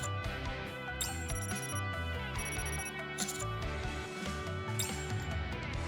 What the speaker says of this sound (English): My phone abruptly starts ringing